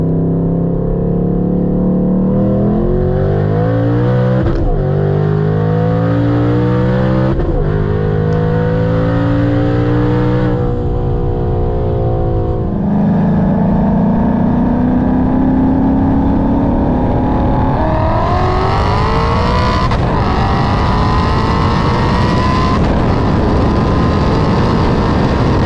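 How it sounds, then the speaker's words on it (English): A supercharged Mustang roll racing, its engine roaring loud and close as it climbs through the gears, with rising pitch sweeps broken by brief shift dips and no voices over it. "So this pink Mustang I'm racing is supercharged."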